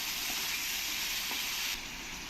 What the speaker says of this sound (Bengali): এই ডাটাগুলো দিয়ে দেবো দিয়ে ভালো করে আমি মশলার সঙ্গে কষিয়ে নেব